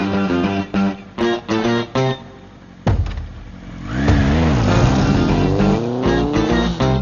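A motorcycle revs up and rides off in a scene from the Telugu film Mirapakai; the engine swells loud and close after earlier tonal sounds, rising and falling in pitch as it accelerates.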